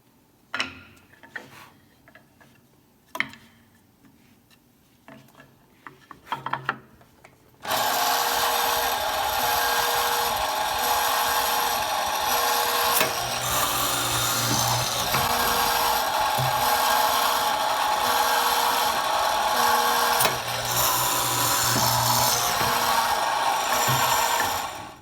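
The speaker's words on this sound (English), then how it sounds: "I'm going to go ahead and re-drill or drill all the rest of my joints." A few faint knocks and handling noises, then a loud, steady power drill bores holes into wooden joints for a long stretch, its whine shifting slightly under load.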